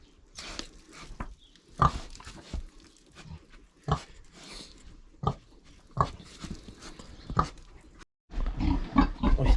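A boar and a sow grunt and snort close by, with irregular rough oinks and rustling, ending in a louder burst of noise.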